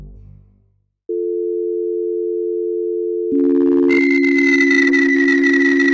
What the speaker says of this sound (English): that was Alex's voicemail playing in the background, and the code at the end means lies